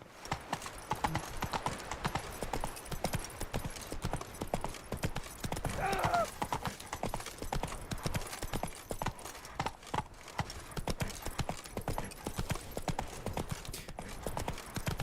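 Steady clip-clop of the horse Roach's hooves in the video game The Witcher 3, a continuous rhythmic trotting patter at close range, loud and even throughout.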